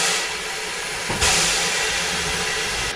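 Steam engine on the Kent & East Sussex Railway hissing loudly nearby, a steady rush of steam that swells into a sharper, brighter blast partway through and holds until the end, with no talking.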